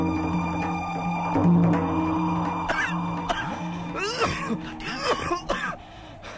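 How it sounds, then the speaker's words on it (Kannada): A man coughs and clears his throat in a drama scene, with several rough hacking bursts that grow more frequent toward the end. A low steady hum sits in the background. "ಈ ಕೆಮ್ಮು ನನ್ನ ಕೈಯಿಂದ ತಡ್ಕೊಳಕ್ ಆಗ್ತಿಲ್ಲ"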